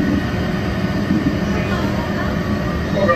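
Steady low rumble and hum of a Disney resort monorail pulling away from the Grand Floridian station, heard from inside the car as a continuous, even drone with no distinct events.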